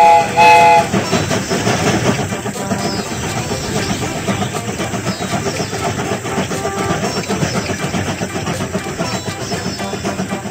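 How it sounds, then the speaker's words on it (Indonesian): A cartoon train from a Baby Bus children's game pulls away, opening with a short whistle toot and then settling into a continuous rolling rumble with rhythmic clatter, fairly loud throughout and free of speech. "Kereta ini akan segera berangkat."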